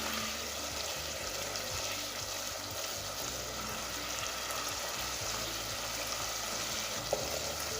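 Masala with ginger garlic paste frying in a pan for a fried baingan (eggplant) dish, a steady close sizzle that continues evenly throughout, with no talking.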